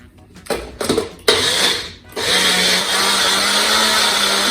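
A small shaker blender starts in short bursts, then settles into a loud, continuous high-pitched whirring grind.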